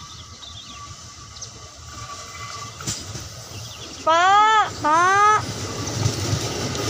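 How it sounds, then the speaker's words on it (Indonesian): A KRL JR 205 electric commuter train bound for Jakarta Kota sounds two loud, sweeping horn blasts in quick succession over a low rumble of rail and station noise, with people talking nearby. "Ini ya teman-teman keretanya."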